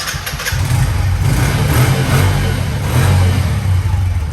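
A Bajaj CT100 motorcycle self-starts and settles into a loud, close idle, its low engine chug steady and throbbing with slight surges throughout.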